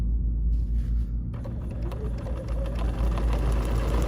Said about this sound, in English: now I'm just stitching right on that blue line